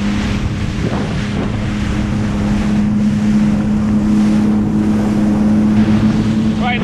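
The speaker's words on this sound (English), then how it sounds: "It's very choppy in the channel here coming through. As you can tell, I'm bouncing around quite a lot." A motorboat pounds through rough, choppy harbour water, its steady engine drone rising and falling under heavy wind buffeting and splashing waves, continuous and close throughout.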